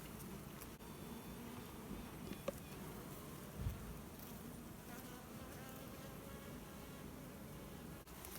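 Honey bees buzzing around a hive on a homestead, a continuous soft swarm drone that holds steady throughout with a couple of faint knocks.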